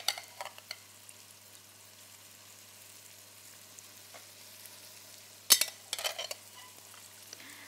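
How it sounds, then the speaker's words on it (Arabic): Rice frying in a pan with meat, a faint steady sizzle broken by a few sharp scraping bursts of stirring. "أقلي الرز شوي."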